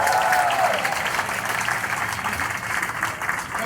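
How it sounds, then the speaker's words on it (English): A crowd at a 5K run and walk event applauds the race committee, with sustained clapping and some cheering that fades slightly toward the end. "Let's hear it for the race committee."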